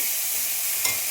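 Ginger garlic paste stir-fried in a pan, a continuous bright sizzle with a spatula scrape midway, close and steady without talk.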